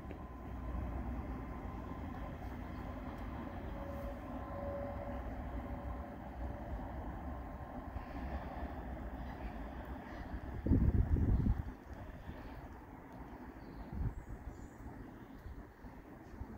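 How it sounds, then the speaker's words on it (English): Class 220 Voyager diesel train pulling away from Bristol Parkway station, a distant, faint engine drone under a steady outdoor rumble, with a brief louder rattle partway through. "can hear a Voyager departing in the distance from Bristol Parkway."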